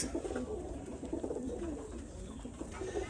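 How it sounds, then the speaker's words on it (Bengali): High-flying pigeons coo at a pigeon farm, with soft, repeated low calls close by over a steady background hum. "দেখেন কবুতরটা হলো খুবই ওড়াবাজি কবুতর"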